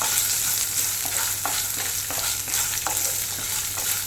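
Coconut pieces and dried chillies fry in a pan for a Kerala-style beans stir-fry, giving a steady dense sizzle with occasional stirring scrapes throughout, close and continuous with no talking.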